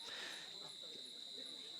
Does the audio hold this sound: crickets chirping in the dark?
yes